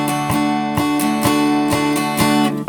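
Guitar held flat like a dulcimer is strummed in a boom-diddy pattern, with a low bass strike followed by two quick brushes repeating steadily, bright and close, with no voices.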